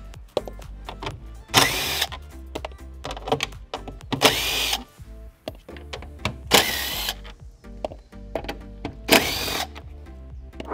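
Bolts removed from the 12V battery tray of a Hyundai IONIQ 6 with a power tool, in four loud whirring bursts of about half a second each, separated by clicks and handling clatter at close range.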